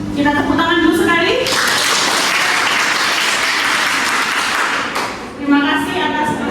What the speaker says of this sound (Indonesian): Kita tepuk tangan dulu sekali.